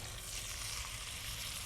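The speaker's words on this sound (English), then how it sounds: "So what we want to hear, we want to hear that nice sizzle" Mushrooms fry in hot oil in a pan, giving a steady, soft rain-like sizzle of fine crackling, close and even throughout with no voices.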